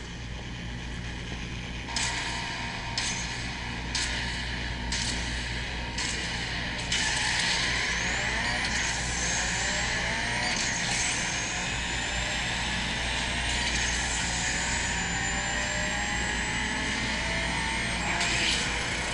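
Race car engines roar in a mobile racing video game as a race begins, a continuous droning whine with rising and falling pitch sweeps and a few sharp clicks near the start.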